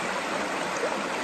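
Slagle Creek flowing beneath a new bridge, a steady close rushing and burbling of water with no other sounds.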